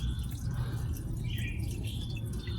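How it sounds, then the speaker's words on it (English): Engine oil drains from a 1997 Toyota Hilux 2.8L diesel in a steady, close, low rushing stream, with faint dripping over about two and a half seconds. "And now we just want to let it drain out."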